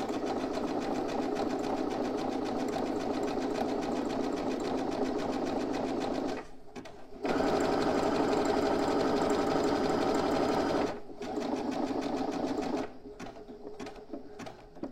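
A sewing machine stitches fabric for an Inès bag with a triangle flap, running in steady rapid bursts with brief pauses around 7 and 11 seconds and a stop-start finish, loud and close with no talking.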